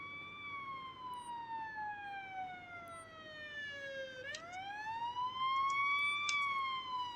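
An ambulance siren from the Police Simulator video game wails in long, smooth pitch sweeps, steady and fairly loud, heard alone without talk.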